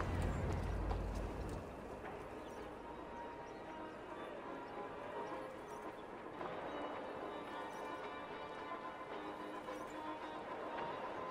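A horse gallops in Assassin's Creed Valhalla, its hooves drumming in a quick, steady rhythm under a soft game ambience. The hoofbeats are faint and continuous, with no clear voices over them.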